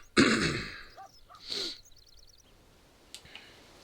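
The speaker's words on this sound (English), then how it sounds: "Sorry for all the sniffing and coughing." A person clears their throat and coughs up close, a harsh rasping burst followed by a second shorter cough and a few faint clicks and sniffs afterward.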